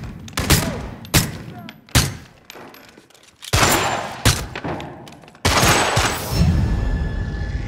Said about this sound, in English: I tried out some new sounds for silent and loud pistols